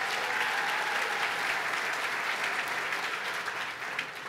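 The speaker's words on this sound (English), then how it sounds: "Let's give him a round of applause." An audience at a governor's address applauds steadily, dense even clapping from a large crowd that holds loud for a few seconds and then begins to thin.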